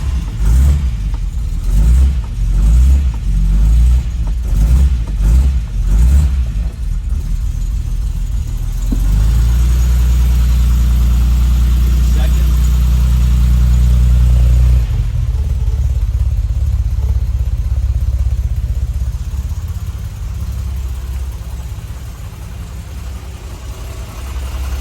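A 1964 Lancia Flaminia 2.8 3C convertible catches with a few throttle blips, then settles into a loud, steady close-range idle with some stretches of heavier revving and no talk.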